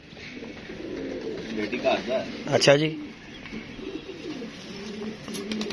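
Pigeons coo softly in the background while someone talks over them, with a brief rustle midway.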